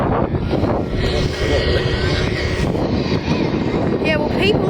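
Airplane passing overhead during plane spotting near an airport, a steady broad engine roar holding loud throughout, with voices chatting over it.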